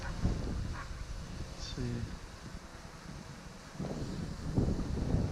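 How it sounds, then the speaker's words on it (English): Wind in the 10 to 15 mph range buffets a DJI Mavic drone's microphone with low rumbling gusts that rise and fall, stronger near the end, while someone speaks briefly over it. "We probably got a good, I don't know, 10 to 15 mile an hour wind."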